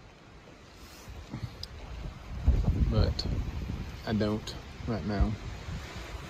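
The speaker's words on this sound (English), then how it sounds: "Very windy out today." Wind blowing on a cold, blustery day along a mountain trail, a steady low rumble of gusts buffeting the microphone throughout, with someone talking over it.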